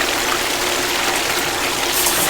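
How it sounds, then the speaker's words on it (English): A stuck sump pump in a restaurant runs with water, giving a steady, close rushing and gurgling flow that holds at an even level throughout with no talk over it. "That looks like a sump pump."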